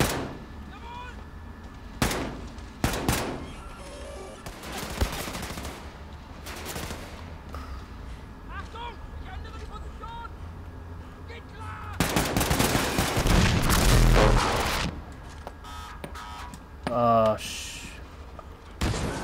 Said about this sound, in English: I'm throwing their bombs back at them